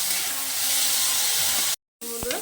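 Vegetables frying in a wok for a veg dal fill the clip with a loud, continuous hissing sizzle, broken by a short silent gap and followed by a brief faint voice.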